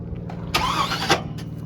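A 1982 GMC squarebody pickup with an LS engine swap cranks over close by, giving a harsh burst of about half a second against a low steady background drone, without clearly catching.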